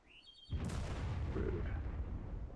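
A mortar explosion in a video game lands with a sudden heavy boom after a brief quiet moment, followed by a long rumbling, debris-filled roar that stays loud and close.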